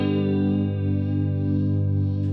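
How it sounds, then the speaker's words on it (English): Guitar played through a Boss CE-1 Chorus Ensemble pedal on its vibrato setting: one sustained chord wavering in pitch, steady and close with no talk. "let's hear the vibrato of the CE1"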